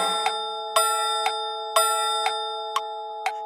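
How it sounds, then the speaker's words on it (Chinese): A clock chime in a children's song rings out in a steady series of bright, ringing strikes about twice a second, each tone sustaining into the next. "三点钟声响"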